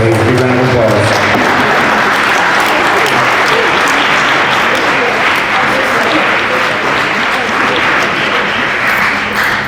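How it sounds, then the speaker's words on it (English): Loud, sustained applause from a large audience at a school fall athletic awards assembly, dense continuous clapping for nearly ten seconds, with a voice faintly audible under it at the start. "Big round of applause."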